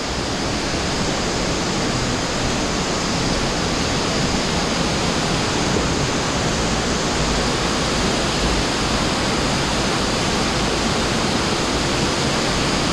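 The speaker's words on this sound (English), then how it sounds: "I think that's my waterfall that I was scared of." A cave waterfall roars in a continuous, loud, even rush of falling water that holds steady throughout with no voices.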